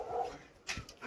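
Dog in a Himalayan village in Almora, giving a short yelp or bark after a brief whimpering tone, fairly close and loud, with outdoor background noise.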